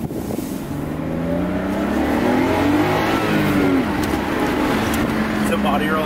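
A Nissan R32 Skyline, just fitted with a new fuel pump and tank, revs and accelerates steadily with rising and falling engine harmonics, loud and close, while people talk inside the car over it.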